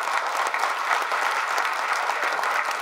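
Steady, dense clapping from a large crowd at a political rally stage, loud and continuous with no speech over it.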